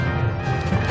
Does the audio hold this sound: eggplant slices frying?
no